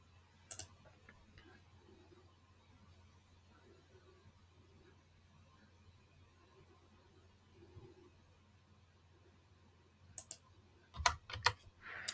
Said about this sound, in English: Let me type in the prompt again.